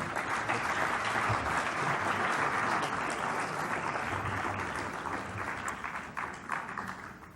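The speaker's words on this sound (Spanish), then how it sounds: "Un aplauso de bienvenida, por favor" Welcoming applause for a visiting lecturer at an academic talk, a full, sustained burst of crowd clapping that stays strong for several seconds before gradually thinning toward the end.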